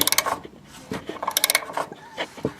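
A 17 mm spanner with a built-in ratchet tightens bolts while a towbar is fitted to a Peugeot 407, giving quick bursts of close, crisp ratchet clicks separated by short pauses.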